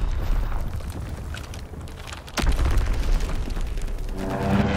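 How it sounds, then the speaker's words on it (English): Explosions from a strafing run in the Call of Duty: WWII video game land as deep booming blasts, with one sharp burst near the middle and rolling rumble around it. "Call for a strafing run."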